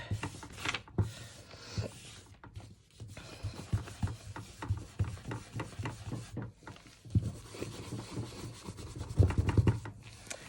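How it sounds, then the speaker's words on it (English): An inked rubber stamp is rubbed around to clean off blue ink, making a quiet, close, scratchy rubbing that repeats in short uneven strokes, with no one talking. "if you just take it and rub it around, you get rid of most of that blue"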